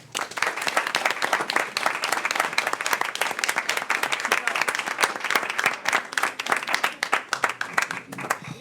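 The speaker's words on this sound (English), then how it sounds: "Hold that applause, please." At a school board meeting, a room full of people claps for the recipient of an excellence in education award, a loud and sustained round of applause with sharp individual claps throughout.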